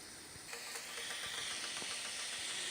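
Cumin dropped into a hot pan while cooking Mexican rice gives a steady, bright hiss and sizzle with faint crackles, fairly close and constant.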